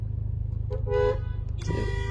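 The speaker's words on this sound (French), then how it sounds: "On klaxonne quand c'est vert et que personne ne le voit." Car horns honking in Paris street traffic, two short toots close by over a steady low engine rumble from a nearby car.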